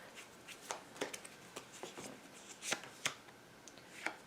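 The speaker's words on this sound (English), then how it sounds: "Let's get another card here." Tarot cards being shuffled by hand, irregular soft riffles and sharp snapping flicks, close and quiet, no talking.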